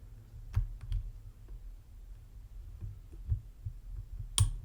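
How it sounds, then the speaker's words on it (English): Faint, sparse clicks come from pins inside a front door lock as it is picked, with a handful of small ticks spaced irregularly over a few seconds and one sharper click near the end, heard close in a quiet setting. "5, little click."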